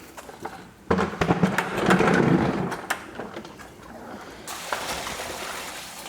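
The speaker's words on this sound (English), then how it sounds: "Let water just run underneath the garage door out the driveway." Rinse water from washing a car inside a garage trickles and splashes, running off under the garage door toward the driveway, a busy watery patter that swells and fades without talk.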